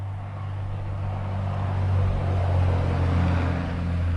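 An electric roadster built on a VW Beetle accelerates in third gear, a steady low motor and drivetrain drone rising slightly in loudness with broadband road noise, close and continuous with no talk.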